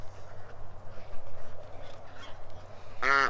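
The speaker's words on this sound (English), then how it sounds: "The quack isn't actually the best" A weak, thin quack from an unhealthy duck sounds near the end, brief and close, after a stretch of quiet low background noise.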